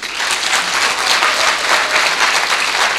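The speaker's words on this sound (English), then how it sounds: "Hey, you can clap better than that." Steady, dense applause from an audience at a TVET 2018 event, loud and close, filling the moment without a break and with no voices standing out above the clapping.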